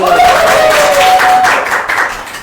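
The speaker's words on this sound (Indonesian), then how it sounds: "Tepuk tangan." An audience claps to welcome a guest speaker onto a talk show about raising laying hens, a dense, steady patter filling the room with a faint tonal hum underneath.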